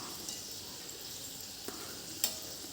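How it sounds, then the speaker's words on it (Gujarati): Sweet ghughra dumplings fry gently over a low flame in oil, giving a faint, steady hiss of bubbling with a couple of soft clicks, and no voices. "આપણે ગેસની ફ્લેમ સ્લો રાખીને તળીશું તો આવા એકદમ સરસ સફેદ જ રહેશે"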